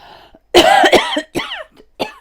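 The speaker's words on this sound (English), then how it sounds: "excuse me, I'm going to cough." A few sharp coughs close up, a loud burst followed by two shorter ones with quiet pauses between.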